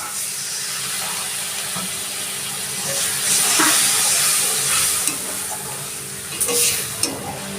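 Water poured onto frying spices in a pan for a Bengali fish curry with cherry tomatoes, giving a steady loud sizzle and hiss with bursts of steam and stirring, no talk.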